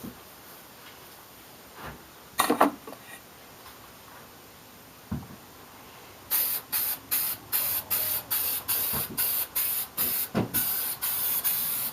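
Krylon clear acrylic coat sprayed from an aerosol can onto a wooden jewelry box, heard as a quick test burst followed by a steady run of short, evenly spaced hissing sprays, close and fairly loud.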